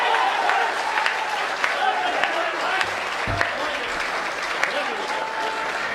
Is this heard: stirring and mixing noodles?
no